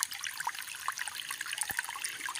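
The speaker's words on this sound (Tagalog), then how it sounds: "Dito po ako kumukuha ng patubig ko pauwi sa bahay gamit po ang hose." Water trickling and splashing from a hose fed by a mountain stream, a steady close bubbling flow with small drips and gurgles, no voices.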